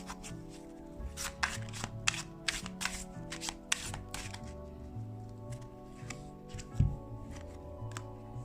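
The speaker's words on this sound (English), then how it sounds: "Shuffle, shuffle, shuffle." Someone shuffles a Shamanic Healing Oracle card deck at close range. A quick run of crisp papery riffles and slaps gives way to softer, sparser handling, with one dull thump near the end.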